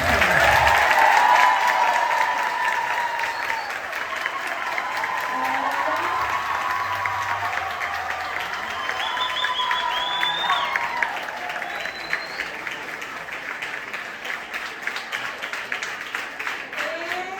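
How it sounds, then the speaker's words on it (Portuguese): Sustained applause from a congregation at a children's Mass fills the space evenly, a dense wash of many hands clapping at moderate distance that slowly thins toward the end. "Padre Roberto, nós queremos te dar uma salva de palmas pela Missa das Crianças."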